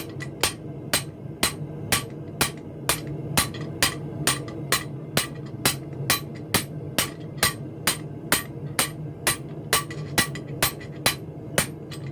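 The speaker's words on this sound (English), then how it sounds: "As it cools, you can start hitting a little harder." Hand hammer blows strike hot gas pipe on an anvil while forging a poppy, a steady even rhythm of about two sharp ringing metallic hits per second, close and loud, continuing throughout with no talk.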